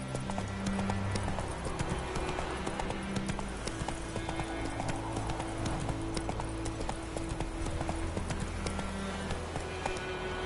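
Galloping horse Roach in The Witcher 3 video game, a steady rapid clip-clop of hooves throughout under continuous game ambience and music.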